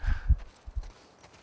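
Heavy hooves of a bison walking in The Last of Us Part 2, a few dull thuds close by in a short uneven sequence, fading out quickly with no speech.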